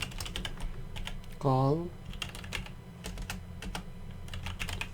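Quick keystrokes tap out a command on a computer keyboard during Ubuntu server setup, light close clicks in short bursts, with a brief spoken word partway through.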